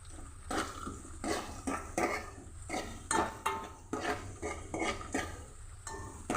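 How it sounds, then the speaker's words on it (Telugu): Onions being stirred in a pan for a ridge gourd and potato curry in a home kitchen, with repeated scraping and clinking of a utensil against the pan, close and steady, in irregular strokes. "ఉల్లిగడ్డలు అయితే యాడ్ చేసుకున్నాం గాయస్ నేను కలబెడుతున్నాం"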